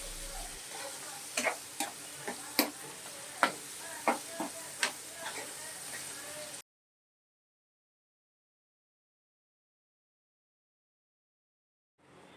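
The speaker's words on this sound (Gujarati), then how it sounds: "ઢાંકીને રાખવાથી ટામેટા સારી રીતે કૂક થઈ જાય છે" Tomatoes sizzle in a pan for Kathiyawadi sev tameta, a soft steady fry broken by about eight sharp spoon clinks and stirs, then it cuts to near silence.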